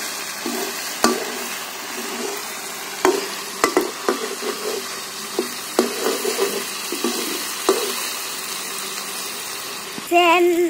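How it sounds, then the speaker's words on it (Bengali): Mutton being stir-fried with garam masala and spices in a pan for a village-style mutton curry, a continuous sizzle under irregular clacks and scrapes of a stirring spoon, with a brief louder burst near the end. "এখন ভালো করে কষাই নিব।"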